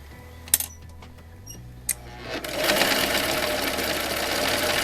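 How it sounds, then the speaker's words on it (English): Sewing machine stitching quilt block pieces for a flying geese scrap quilt, starting after a few quiet clicks and handling taps and then running in a steady, close mechanical whir. "So I'm going to go ahead and I'm going to get this sewn."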